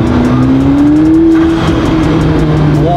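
A McLaren P1 hypercar engine revs loudly and close, its pitch climbing steadily and then dropping back before rising again at the end, with a rapid fluttering pulse running through it.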